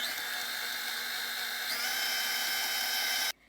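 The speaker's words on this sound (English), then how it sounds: "Whisk our mascarpone into our heavy whipping cream mixture." Electric mixer whisking mascarpone into heavy whipping cream for tiramisu, a steady high-pitched motor whine that rises slightly in pitch midway before cutting off abruptly.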